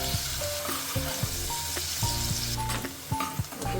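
Onion frying in oil for pav bhaji, a steady close sizzle with occasional stirring scrapes in the pan and no talking.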